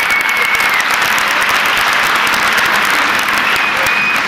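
A festival crowd applauds loudly and continuously at a hamsi (anchovy) festival in Frankfurt, a thick, unbroken roar of clapping close by.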